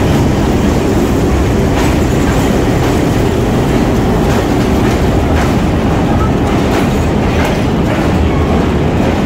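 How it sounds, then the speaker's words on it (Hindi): The Awam Express passenger train, running from Peshawar to Karachi, arrives at a station platform with a loud, continuous rumble and faint rhythmic wheel clatter close by, with no voices over it. "प्लेटफॉर्म नंबर 3 पर पेशावर से कराची जाने के लिए आवाम एक्सप्रेस प्लेटफॉर्म नंबर 3 पर देखें आपके सामने आ रही है।"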